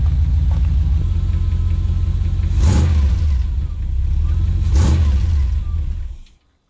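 A 1982 Chevrolet S10 pickup with a V8 idles with a deep, throaty exhaust rumble, revving sharply twice before the sound cuts off.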